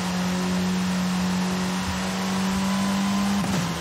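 Steady virtual car engine drone in Forza Horizon 5, played on a Logitech G920 wheel and pedals, holding an even pitch while cruising, with a brief shift or bump near the end and no talking.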